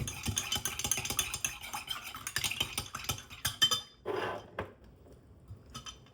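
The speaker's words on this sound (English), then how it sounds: "and then I just stir it up real good" A spoon stirs saline solution in a neti pot, clinking and scraping busily against the sides with a rapid rhythm, close up, then slowing into a few brief scrapes and taps before falling quiet.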